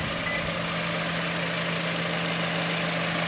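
A Lexus RX350 AWD engine idles with the hood open, giving a steady, even hum with a faint whirring hiss. The sound is moderately loud and unchanging throughout.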